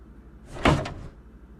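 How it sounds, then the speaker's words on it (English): A generator's case swings open with a single short, close clunk and a brief rattle of the panel, alone in a quiet room. "we're going to open up this case here"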